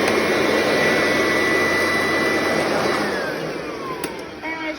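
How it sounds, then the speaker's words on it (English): A Dyson vacuum cleaner whines loudly and steadily while sucking up leaves in a garage, its roar easing slightly near the end with a few rattling clicks. "I'm just going to vacuum load some of these leaves up."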